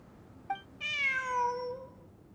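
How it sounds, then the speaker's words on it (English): A cat in a desert ruins exploration video game gives a short chirp, then one long, clear, drawn-out meow that fades, sounding close and alone. "Look, a cat."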